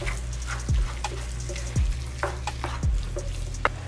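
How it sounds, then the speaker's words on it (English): Ground meat for a meat lasagna sauce sizzles loudly in a hot pan while a utensil stirs and scrapes it around in several sweeping strokes, with a steady frying hiss throughout. "You don't want the meat to be clumpy. So I'm gonna keep mixing it around."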